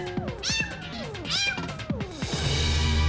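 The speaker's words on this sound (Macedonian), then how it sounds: "Видео со маче." A kitten meowing from a phone, several high, sliding meows in quick succession, close and clear, ending in a sustained tonal note.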